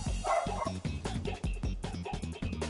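A dog barks in a rapid series of sharp, yappy bow-wows with some whimpering, loud and close throughout, with no talking over it.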